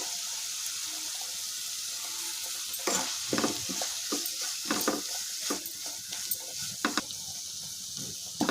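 Tomato masala with spice powder frying in a pan as it is stirred, a close sizzle broken by repeated scraping and wet clattering strokes that grow busier partway through.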